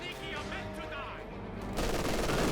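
Gunfire in the real-time strategy game Company of Heroes 2, a burst of rapid shots rising loud near the end after a quieter stretch, with speech in the background.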